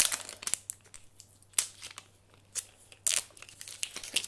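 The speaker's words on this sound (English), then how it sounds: "Oh, everything's got so much packaging on it." Crinkly plastic packaging torn and crumpled off Sephora makeup purchases, close up in short bursts of rustling and sharp crackles with brief pauses, no talk.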